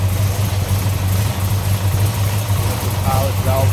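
A 1969 Plymouth Satellite's 440 V8, fitted with MSD ignition and an aluminum radiator, idles with a steady, deep low rumble close by, unbroken throughout.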